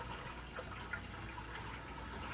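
Water runs and swirls as rice is rinsed in a pot, a steady, close, hissing wash with no speech.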